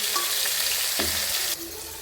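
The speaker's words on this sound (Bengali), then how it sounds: "এতে মাছের পিসগুলো দিয়ে দেওয়া হচ্ছে" Pieces of boal fish frying in hot oil in a wok, a steady close sizzle with a brief splash as they go in, then a softer hiss continuing.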